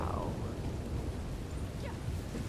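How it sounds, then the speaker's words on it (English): Steady, dense rumble of a thunderstorm with rain in Red Dead Redemption 2 Online, a continuous loud wash of low roar filling the whole stretch, no clear single thunderclap. "The beastly storm."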